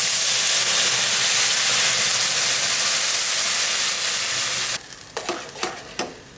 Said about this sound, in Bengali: এবার ফোড়ন দিয়ে দেবো, তেজপাতা আর গোটা জিরে।